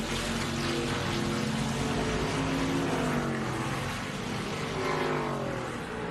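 ARCA Menards Series stock cars race at Lime Rock Park, climbing uphill toward turn 5, their engines droning loud and continuous with rising and falling harmonic whine as they pass, no talk over it.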